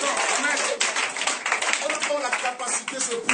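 Church congregation at a deliverance session clapping and cheering for the Lord, a dense, steady wash of hand claps and voices filling the whole stretch, loud and close.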